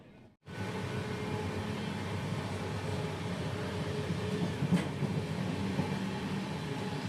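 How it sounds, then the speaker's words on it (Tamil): Trains pulling into a railway station one after another after the Kumbh Mela, a steady low rumble of rolling coaches and wheels, close and continuous, with no talk over it. "இப்போ தான் அங்கே போன வண்டிகள்லாம் ஒவ்வொன்றா வந்துட்டுருக்கு பார்த்திங்களா"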